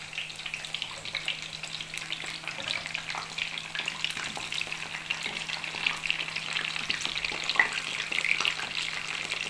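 Peppers fry in a pan of minced meat sauce for a moussaka tray, giving a continuous soft crackling sizzle at close range over a faint steady low hum.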